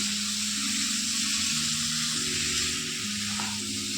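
Green banana and potato curry masala sautéing in oil over a lowered gas flame, a loud continuous sizzle with a low steady hum beneath and faint stirring.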